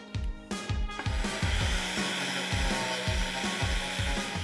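Fine-grit power carving disc grinding into wood, a loud close whirring rasp that pulses in regular bites roughly twice a second as the disc sweeps across the surface, with no talk.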